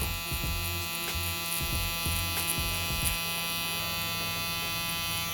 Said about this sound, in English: Using my Rogue trimmer by Gamma, I'm gonna remove the bulk.